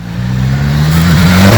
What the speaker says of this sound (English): returning from his 7 or 8 mile ride on the S1000